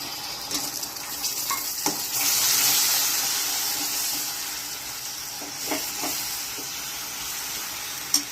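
Water splashes into a pan of melting jaggery and ghee, about a quarter kilo of jaggery, as syrup is made for puffed rice laddus. A bright hiss and sizzle swell up, then slowly subside, with a few faint clinks.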